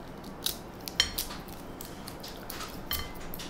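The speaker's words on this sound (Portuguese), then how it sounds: "Você vai pegar o alho e você vai descascar." Garlic cloves being peeled on a table, with faint papery crackles and small taps from the skins, close and quiet.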